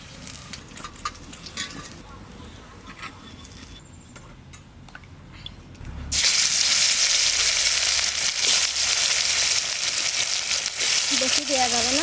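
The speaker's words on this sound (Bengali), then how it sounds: "লাল করে ভেজে নিচ্ছি মাছটা।" Pieces of a large 4 kg sea fish frying in hot oil until reddened, a quiet stretch of faint kitchen sounds giving way to a loud, continuous sizzle for the second half.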